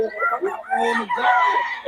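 A rooster crows among other chickens at a market in Bocaue, the call rising and drawn out, fairly near, with voices talking in the background.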